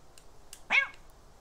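Single short cat meow from the video game Calico, faint and brief against a quiet background.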